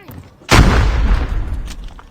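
A single loud sniper rifle shot in the video game Call of Duty Mobile, a sharp boom with a rumbling tail lasting over a second.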